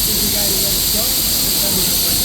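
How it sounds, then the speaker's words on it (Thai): An old steam locomotive releases a steady, loud hiss of steam, continuous and close over a low rumble. "ของเก่าเนาะ รถไฟไอ้น้ำจ้า"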